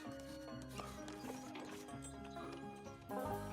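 Cartoon horses pulling a horse cart, with rhythmic clip-clop hoofbeats and wheel rattle set against background music, fairly close and steady.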